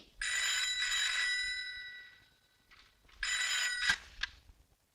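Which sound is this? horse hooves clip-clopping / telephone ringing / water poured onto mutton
telephone ringing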